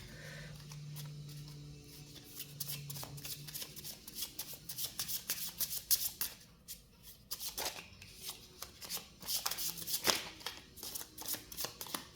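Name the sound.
shuffling angel tarot cards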